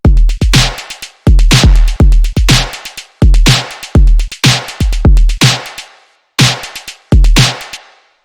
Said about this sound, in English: So the breakbeat on its own sounds like this.